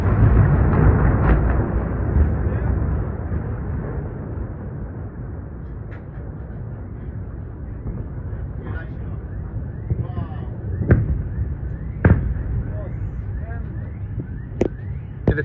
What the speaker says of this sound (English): footage shows an Iranian missile facing interception attempts by 11 interceptor missiles over Israel.